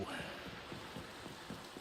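Rain falls in the Minecraft ATM10 modpack, a faint, even hiss of rainfall with soft patters running under the whole short stretch.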